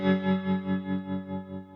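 An electric guitar chord rings through a Stone Deaf Tremotron analog tremolo pedal, its volume pulsing in a smooth, even throb about four times per second, warm and lush with no one speaking.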